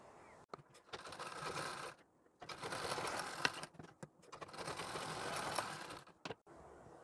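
A sewing machine stitches a one-year-old baby's Rajlakshmi saree blouse in three close, steady runs separated by brief pauses and soft mechanical clicks.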